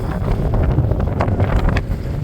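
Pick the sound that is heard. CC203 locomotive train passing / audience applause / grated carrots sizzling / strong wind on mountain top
strong wind on mountain top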